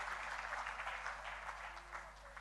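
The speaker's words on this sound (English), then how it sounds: "Clap them one more time." An awards-ceremony audience applauding, a continuous soft patter of many hands clapping, heard at a distance over a low hum, with no voices.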